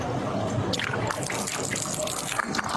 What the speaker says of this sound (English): Pour it out, or you're going to go to jail for open container.